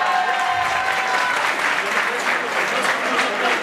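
Steady applause from a graduation-ceremony audience at the Centro Educativo Regional Apaxtepec, dense and continuous throughout, with a faint announcer's voice mixed underneath.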